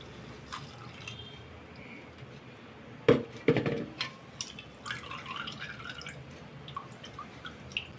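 Ground mixture for sugarcane-style juice is filtered through a strainer, giving soft liquid drips and a few wet squishes and clinks in a quiet kitchen.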